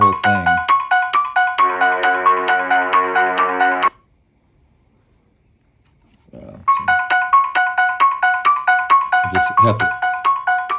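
A motion-activated Motion Tunes player, held in the hand, chimes a bright, repeating electronic ringtone melody, cuts off for a few seconds, then starts again, with brief talking in the gap.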